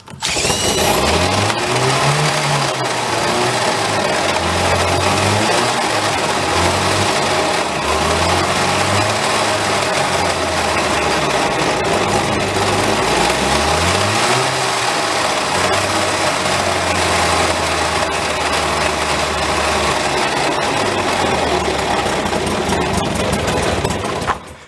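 The small engine of an abandoned mini speed boat runs loud and close, a buzzing high-pitched drone that rises and falls in pitch as the throttle and choke are worked, surging and sagging for about twenty-five seconds without idling steadily.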